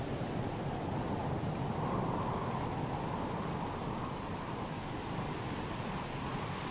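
Steady rain pours on a wetland planet in the video game Starfield, with a low rolling rumble of thunder beneath, a continuous broad hiss that stays even and fairly quiet throughout, with no voices.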